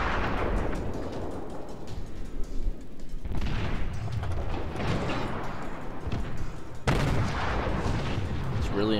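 Warship guns fire in World of Warships as heavy, rumbling booms that roll on continuously, with a fresh loud blast breaking in about every three to four seconds. Someone talks quietly beneath them.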